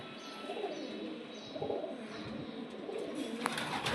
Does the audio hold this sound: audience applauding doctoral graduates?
no